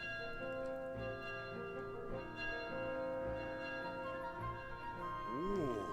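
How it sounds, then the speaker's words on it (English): A bell tolling in The Legend of Zelda: Skyward Sword HD, resonant ringing strikes repeating over sustained game music, ending with a rising and falling musical flourish. "Uh-oh, I hear a bell."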